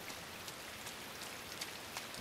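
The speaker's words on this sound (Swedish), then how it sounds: "Det är kallt. Det regnar." Rain falls steadily in a forest, a dense, faint hiss of drops with no voices.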